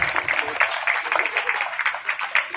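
Audience applause at a Ganesh Chaturthi festival gathering at Patel Chowk, Haldwani, a steady sustained clapping from a crowd that fills the whole moment without pause.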